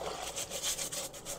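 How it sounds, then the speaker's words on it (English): Close, vigorous hand scrubbing of a soapy Tilley hat, a rhythmic wet rubbing swish repeating quickly back and forth without speech. "Scrub it good."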